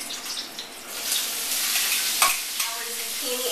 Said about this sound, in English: Our zucchini is cooking.